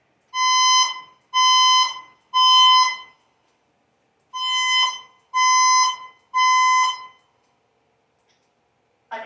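A test of a building fire alarm: three loud, harsh buzzing blasts, a pause, then three more, each about a second long, in a clear temporal pattern with silence afterward.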